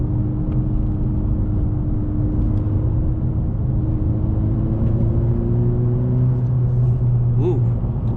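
A 2020 Honda Civic Si climbing a mountain road, its engine droning steadily from inside the cabin with a low rumble and a pitch that slowly rises as the car pulls uphill in gear.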